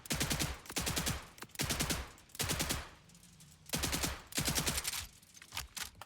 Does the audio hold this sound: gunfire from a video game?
yes